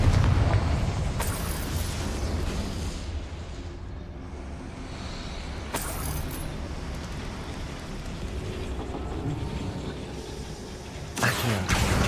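Spell blast from Confringo in Hogwarts Legacy, a loud booming burst followed by sustained rumbling and crackling debris, with further sharp impacts near the end.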